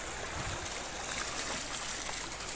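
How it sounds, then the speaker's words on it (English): Water tumbles steadily from a cascading garden water feature at Alnwick Castle, a continuous close splashing rush with no voices over it. "That cascades down either way. Onto other fountains."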